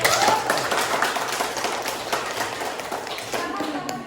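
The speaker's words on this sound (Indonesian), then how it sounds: "Tepuk tangan dulu sekali lagi." Classroom of students clapping for a classmate, a burst of scattered hand claps with taps and thumps, people talking over it.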